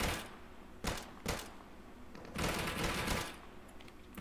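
Rapid bursts of gunfire in the video game Deadside crackle in several quick volleys, fairly quiet, with a steady background hiss between bursts.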